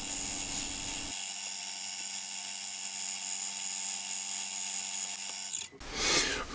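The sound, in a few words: bench drill drilling pilot hole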